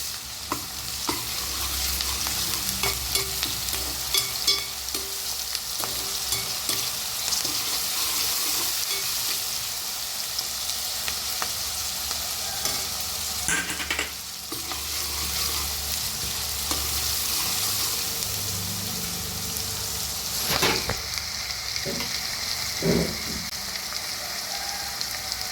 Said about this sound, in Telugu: అల్లం పేస్ట్ ఉల్లిపాయ ముక్కలు వేగినాయి కదండి.